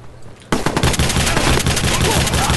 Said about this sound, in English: Yeah, I bought this fully automatic shotgun.